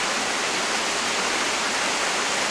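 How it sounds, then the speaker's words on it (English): A waterfall roars as a steady, dense rush of water, constant and close throughout with no other sounds. "That's the waterfall thing I was saying."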